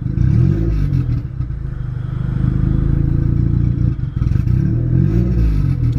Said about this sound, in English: Just gonna like barely tap on the gas. It will slowly rev up and it does not get hung up at any RPM